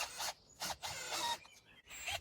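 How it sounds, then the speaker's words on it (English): A power driver runs timber screws into a log resting on chainsaw-milling stands, giving short whirring bursts with pauses between them, quiet and fairly close. "I'm now going to screw it in with these 2 timber screws just to keep it nice and secure."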